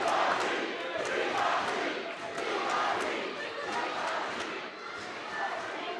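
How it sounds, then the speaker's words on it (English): A wrestling crowd at a pro wrestling show cheering wildly, a dense roar of yelling voices with rhythmic claps and stomps, sustained and loud throughout. "The crowd is hysterical."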